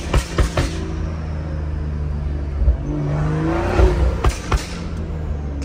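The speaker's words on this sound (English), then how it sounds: "Keep forgetting how loud my damn car is." A 650 hp Stage 2 tuned BMW M340i engine roars loudly and steadily, with the revs rising and falling and a few sharp bursts, up close throughout.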